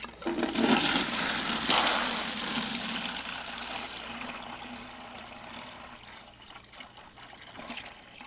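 Water pours and trickles into a homemade gravity-fed chicken waterer, a loud rushing fill at first that settles into a steadier, softer stream.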